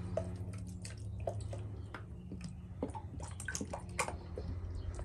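Water running into a bucket in a garden while a pest treatment is measured out, a soft steady pour with irregular splashes and drips, quiet and close, no talking.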